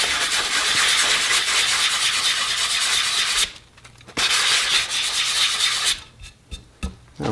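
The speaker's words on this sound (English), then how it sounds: "get this filled up a little bit higher and then sand it down" Sanding a filled repair on the wooden stock of a Danish 1891 Krag infantry rifle, a steady, loud, close abrasive rubbing that stops briefly, resumes, then breaks into shorter strokes.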